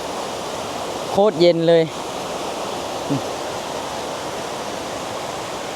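Kuang Si waterfall in Laos gives a steady broadband roar of falling water that fills the whole clip, with a brief spoken exclamation near the start and a short sound later on top of it.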